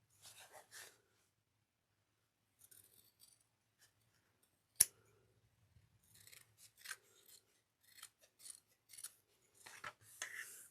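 Scissors snip away excess lining fabric on a small cross-body bag, with a few scattered bursts of cuts and one sharp louder snip, quiet and close with gaps of silence between.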